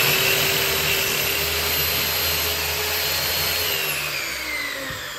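A power saw cuts through a length of baseboard trim during a home baseboard installation, one steady continuous whine with a low motor hum beneath, loud and close, lasting the whole stretch and easing slightly at the end.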